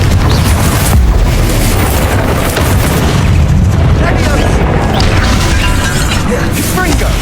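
Confringo blasting spell explosions from the video game Hogwarts Legacy, dense continuous booms and crashes throughout a loud combat scene, with voices calling out spells over the blasts.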